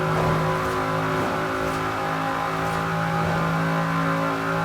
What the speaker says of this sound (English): this thing sounds pretty good in tunnels